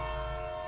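An approaching train gives a sustained, loud horn blast, a steady droning tone over a deep rumble that holds without break.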